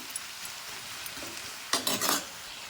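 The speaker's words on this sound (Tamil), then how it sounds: "ரெண்டு தக்காளி கட் பண்ணியிருக்கிறேன் மீடியம் தக்காளி அதையும் போட்டு பரட்டிக்கலாம்" Two cut medium tomatoes fry in a pan with a low, steady sizzle, then a cluster of quick spatula scrapes and stirs rises loudly near the end.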